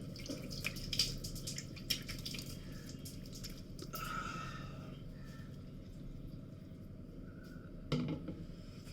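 Hot water running from a tap into a sink, a steady wash of flow with scattered drips and splashes, fairly close and continuous for the whole stretch.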